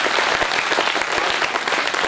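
Crowd applause at a Hindi poetry recital, the kavi sammelan audience clapping in a dense, steady roar that holds at full strength throughout.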